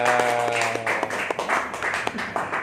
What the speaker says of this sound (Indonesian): Tepuk tangan dulu atuh buat kita semua.